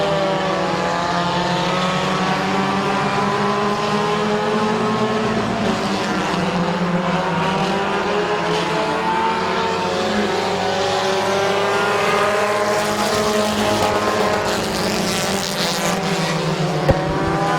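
Race cars roaring around a short speedway oval, several engines pulling together in a sustained loud drone with rising and falling pitch as they pass.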